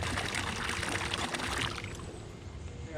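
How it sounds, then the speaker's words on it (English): Fresh water poured into a fish bucket outdoors on a fishing trip, a close, steady splashing pour that thins out toward the end. "I'm putting new water in there for the fish."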